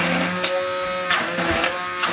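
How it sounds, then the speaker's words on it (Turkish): A blender whirs through thick homemade ice cream mixture, a close, steady motor buzz with slight pulsing rises in pitch and a few short scraping surges across its length. "Bunu önce blenderdan bir geçireceğim."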